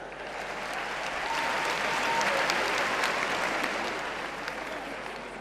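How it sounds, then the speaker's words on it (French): Audience at a comedy show in Abidjan bursts into sustained applause for Abobo, a dense wash of clapping that swells and fades slightly over several seconds, fairly loud and filling the room. "Mais applaudissez pour Abobo."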